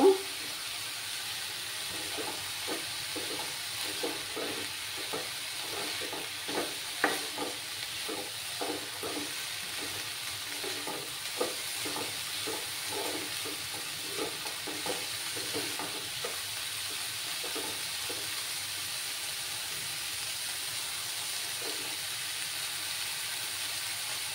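Fried peanuts stirred into red greens frying in a pan for a Bengali lal shak dish, a low steady sizzle with a long run of soft, rhythmic spatula scrapes and taps.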